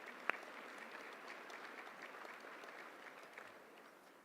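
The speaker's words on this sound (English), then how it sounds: "Let's give them another round of applause." Audience applause at an awards induction ceremony, a steady wash of clapping from a large crowd that holds throughout and fades slightly at the end.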